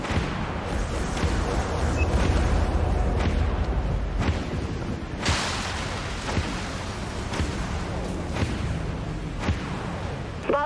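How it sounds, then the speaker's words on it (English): Missiles launch and explode in the space combat game Dreadnought, a dense rumbling barrage of deep booms and sharp blasts layered over continuous low engine drone, loud and sustained throughout. "Vulture missiles have a clean shot"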